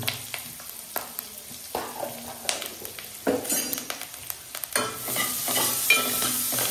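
Slightly wilted curry leaves frying in a pan, crackling and sizzling close by, with scattered clinks and scrapes of a spoon stirring against the metal.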